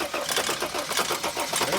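A worn 2006 Mercedes T1N Sprinter diesel van engine runs with a fast, rough, rattling idle and clattering firing pulses, heard close and loud alongside an exhaust leak.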